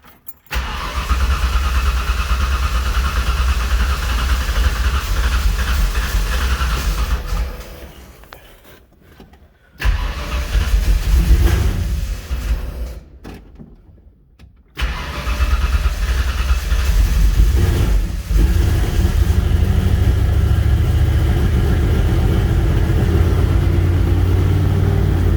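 A turbocharged Mustang with a 4-inch exhaust cranks and fires, settles into a loud rumbling idle, cuts out twice, then restarts and idles again, close and alone.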